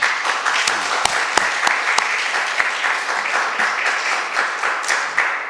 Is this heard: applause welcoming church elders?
yes